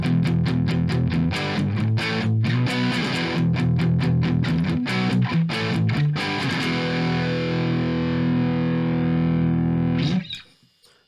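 Distorted rhythm chords come from a Fender FMT Telecaster electric guitar on its neck pickup, strummed loudly in a steady pattern with choppy muted breaks, then a sustained final chord that stops sharply.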